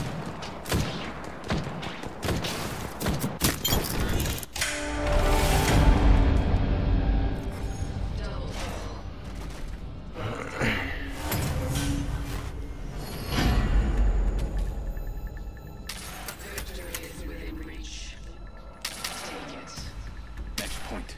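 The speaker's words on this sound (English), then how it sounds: "Getting shot at." Bursts of gunfire in Apex Legends on a new Arenas map, crackling rounds and thudding impacts rising and falling in volume amid game effects and mechanical sounds.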